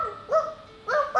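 A child imitates a dog barking, giving two short high yelping woofs close to the mic with a quiet pause between them and a third bark starting at the end.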